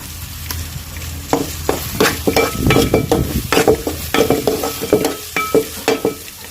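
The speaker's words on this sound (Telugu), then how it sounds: "ఇప్పుడైతే అల్లం వెల్లుల్లి పేస్ట్ అయితే వేస్తున్నాం" Ginger garlic paste frying in a pan with onion, tomato and coconut paste for a chicken curry, a close sizzle broken by rhythmic scraping and knocking strokes of a spoon being stirred repeatedly.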